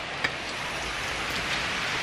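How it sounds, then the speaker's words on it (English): Pouring rain in Florida on the day of an NFL game, a soft, steady hiss of drops hitting surfaces, fairly faint and continuous, with one brief tap near the start and no voices. "but it's pouring rain."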